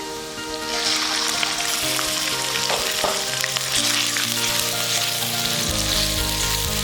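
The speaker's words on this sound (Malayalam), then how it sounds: "നീളത്തിൽ ചെറുതായിട്ട് അരിഞ്ഞു വെച്ചിരിക്കുന്ന ചിക്കൻ ഇതിലേക്കിടാം" Chicken cut into thin strips sizzles steadily in hot oil with green chilli and garlic, a dense continuous frying hiss close up with occasional stirring clinks and a low hum underneath.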